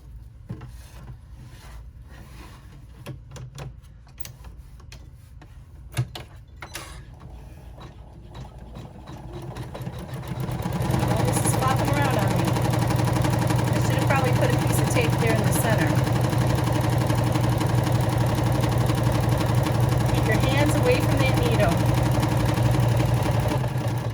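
A sewing machine runs a top stitch on a Dolly Mini Rucksack, a steady mechanical drone that starts quietly, then grows louder and holds continuous through the rest.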